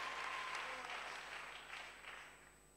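A church congregation applauds after testimonies, a soft, distant wash of clapping that slowly fades out.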